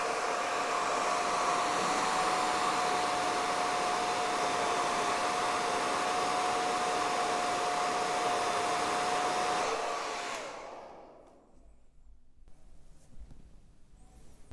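A hair dryer blows steadily at close range while hair is styled into an outward curl, a loud constant whine with a thin tone that cuts off near the end, leaving faint handling noises.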